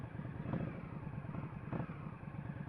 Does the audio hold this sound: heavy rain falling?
no